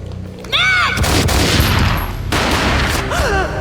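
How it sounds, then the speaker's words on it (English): A loud, booming gunshot from the Max Payne video game bursts out amid dense game sound effects and music, with echoing whooshes around it. "A gunshot boomed and she fell down in slow motion."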